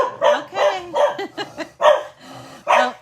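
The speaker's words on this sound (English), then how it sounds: "Saturday night, everybody's walking their dogs in my neighborhood." Several dogs bark in a neighborhood on a Saturday evening, sharp barks in quick bursts with a few yips, close and fairly loud, with no talk over them.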